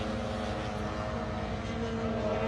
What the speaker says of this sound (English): I can hear Dave's round Honda